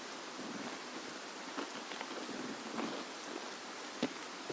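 Steady rain in Escape From Tarkov, a soft, even hiss of drops falling on surfaces, with a few faint, sharper taps now and then and no voices.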